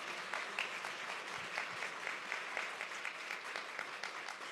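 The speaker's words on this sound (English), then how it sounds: "Big round of applause." Audience applause after a panel discussion on democracy: steady, moderately distant clapping from a full room, continuous throughout with no voices over it.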